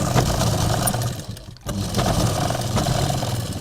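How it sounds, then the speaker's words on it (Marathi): A sewing machine runs a final line of stitching on a prince cut blouse, a loud, close mechanical whirr with a fast rapid beat, pausing briefly in the middle before starting again. "फायनल सिलाई मारून घ्यायची."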